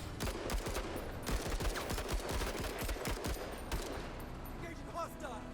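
Gunfire salvos in the tactical game Menace rattle out as dense, rapid shots at steady loudness, close and continuous, with voices faintly mixed in.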